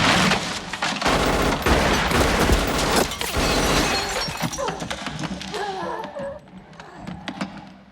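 A loud crash from the 1991 action film McBain as a man falls through the ceiling of a dictator's office, with shattering debris and heavy thuds followed by scattered impacts and bursts of gunfire-like cracks that thin out toward the end.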